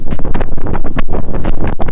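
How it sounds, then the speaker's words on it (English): Loud, buffeting desert wind of 20 to 25 mph gusts battering the microphone in rough, continuous gusts, close and harsh with no other sounds. "we're looking at roughly 20 to 25 mile an hour wind gusts"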